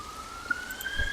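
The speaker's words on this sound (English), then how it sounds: "Oh god, and now there's sirens." Distant siren outdoors, a thin steady wail that slides slightly upward and holds, faint against a quiet background with a soft thump near the end.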